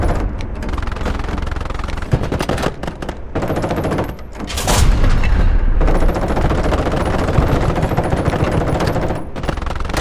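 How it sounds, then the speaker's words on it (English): Sustained, loud machine-gun fire from the tank combat video game Call to Arms: Panzer Elite, rapid rattling volleys with short gaps and a louder blast midway. "Feldwebel Weber, keep that gun on the enemy."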